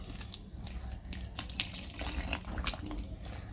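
Warm water trickles and splashes as it is poured into rice flour batter in a bowl, a close, steady wet pour with small splatters and no talking.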